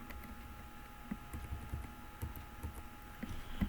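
Quiet keystrokes on a computer keyboard, irregular soft taps scattered through a steady low room hum while editing notes in Vim, with no talk.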